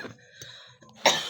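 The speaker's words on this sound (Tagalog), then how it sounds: "Inubo tuloy ako." A person coughs: a throaty cough at the start, a softer catch midway and a sharper cough at the end, close and otherwise quiet.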